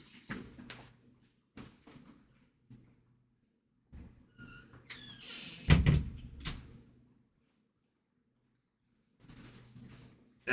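Indoor door swung shut with a single firm thud, surrounded by quiet room noise and a few faint knocks and creaks before and after.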